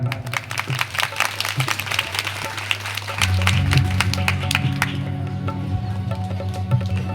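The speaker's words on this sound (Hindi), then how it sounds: "एक बार जोरदार ताली।" Applause from the audience at a Bhagavat Katha in a village, many scattered hand claps that swell into sustained clapping, while a steady musical drone and tones sound underneath.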